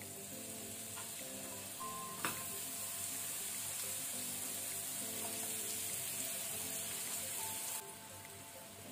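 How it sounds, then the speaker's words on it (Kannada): Banana pieces fry in a pan over a medium flame with a steady, soft sizzle that runs throughout, broken by a few faint clinks of stirring. "ಈಗ ನಾವು ಫ್ಲೇಮ್ ಮೀಡಿಯಂ ಅಲ್ಲಿ ಇಟ್ಕೊಂಡು ಬನಾನ ಸಾಫ್ಟ್ ಆಗೋ ತನಕ ಫ್ರೈ ಮಾಡ್ಕೊಳ್ಬೇಕು"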